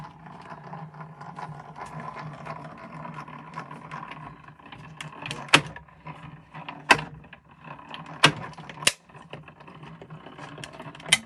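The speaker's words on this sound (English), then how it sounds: "that noise is normal. It just shows that your cutting pad is cutting." Low mechanical rumble and hum with several sharp cracking snaps near the end, as a die-cutting machine presses and cuts through a cutting pad.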